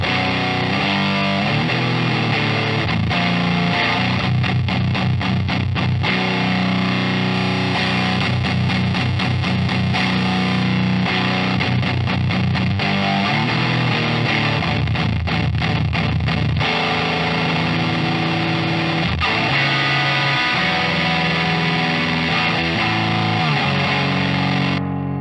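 An electric guitar runs through a gated filter fuzz pedal, giving a loud, thick, buzzing distorted tone with chopped, gated stabs and sustained chords that last throughout, played alone with no talking.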